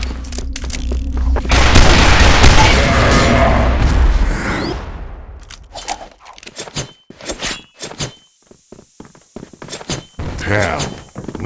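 A smoke bomb goes off in a zombie-hunting video game, a loud dense burst of hissing noise lasting a few seconds, followed by scattered sharp thuds and clicks of gameplay.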